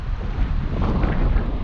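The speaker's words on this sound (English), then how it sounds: "It is windy." Strong wind buffets the microphone in a continuous low roar with gusty surges, no other sounds standing out, while sea fishing on the coast.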